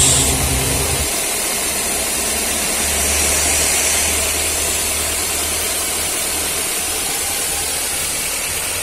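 A Daihatsu Gran Max engine idles smoothly after its DTC codes P0500 and P1604 are cleared, making a steady, even hum mixed with broad hiss that stays constant throughout, with no voices.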